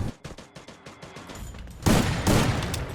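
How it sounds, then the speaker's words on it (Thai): Quick bursts of automatic gunfire in the mobile shooter Free Fire, aimed at a loot box, start as rapid separate shots and then swell into two louder, denser volleys close up. "ผมยิงกล่องศพเฉยเลย"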